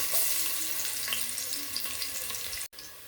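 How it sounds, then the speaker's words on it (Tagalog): Vegetables and garlic stir-frying in a pan, a steady close hiss of sizzling oil with faint scraping of stirring, running continuously until an abrupt cut near the end. "mag-stir fry po tayo ng vegetables"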